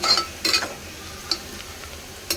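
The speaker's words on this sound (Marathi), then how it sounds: "अद्रक छानपैकी फ्राय होत आहे." Ginger sizzling in a pan with chili and garlic for masoor dal, a soft steady hiss broken by a few sharp clicks of a spoon stirring against the pan.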